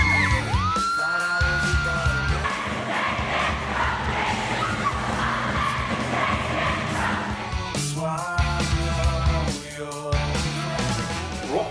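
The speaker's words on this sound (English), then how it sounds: "that's a whole lot of crazy screaming kids" A large crowd of school students screams and cheers at a school rock concert tour, a loud, dense wall of yelling and whooping that holds steady for the whole stretch, with bursts of band music breaking through near the end.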